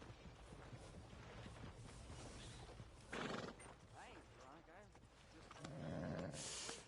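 A horse neighs and whinnies in Red Dead Redemption 2, with clip-clop hooves and a game soundtrack around it, and two louder whinny bursts stand out amid voices.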